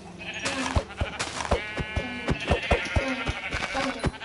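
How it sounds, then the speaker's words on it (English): Minecraft sheep bleat repeatedly in a flock, overlapping calls layered with sharp clicks from game actions, close and fairly loud. "look at all the sheep"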